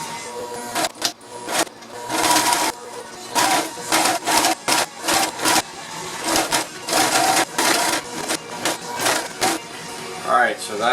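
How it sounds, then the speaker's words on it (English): Sewing machine stitching the long front panel of a boat bimini top, running in repeated loud bursts of rapid mechanical whirring with brief pauses between runs, close up. "I'm ready to sew the front piece on, which is the longest"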